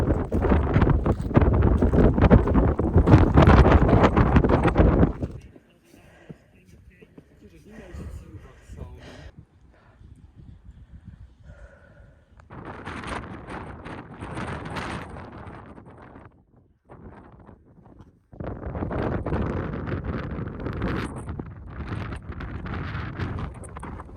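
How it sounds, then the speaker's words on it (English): Heavy wind in County Donegal, Ireland buffets the microphone in loud gusts, dropping off for a quieter stretch before roaring back again. "One thing I didn't really consider was how windy it is."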